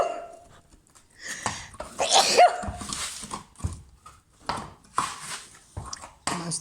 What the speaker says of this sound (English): Most unladylike sneeze I know of